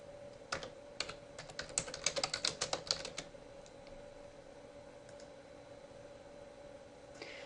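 Bursts of clicky keystrokes on a computer keyboard while a physician's name is entered into a hospital order system, quick irregular taps clustered in a few seconds, then a couple of faint isolated clicks against quiet room hiss.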